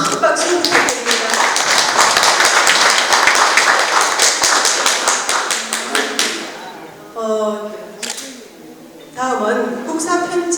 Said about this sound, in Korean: 우리 발표하신 두 분 선생님께 다시 한번 큰 박수 부탁드립니다